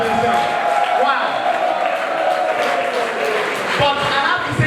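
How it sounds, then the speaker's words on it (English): Audience applause and cheering at a Classic FM Battle of the Decades event, a continuous wash of clapping mixed with shouts and whoops, loud and close throughout. "give a round of applause for yourselves"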